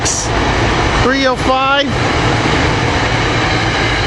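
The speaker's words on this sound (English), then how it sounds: "There's the SEPTA train to Malvern with railcars 296" SEPTA commuter train bound for Malvern passing Bryn Mawr station at rush hour, a steady loud rumble with a brief high squeal or horn-like tone in the middle, while someone talks over it.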